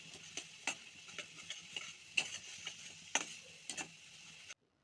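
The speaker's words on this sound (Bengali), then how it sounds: "এবার অল্প জল দিয়ে মশলাটা ভালো করে কষিয়ে নেব।" Spice paste sautéing in a pan with a little water for a prawn curry, soft sizzling under scattered spatula scrapes and taps against the pan, quiet and close, ending abruptly.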